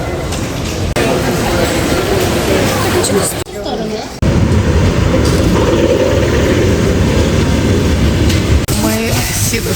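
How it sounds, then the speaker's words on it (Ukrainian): A train at a railway station rumbles steadily with loud, continuous rail and carriage noise, a brief lull partway through, and people talking under it. "потяг."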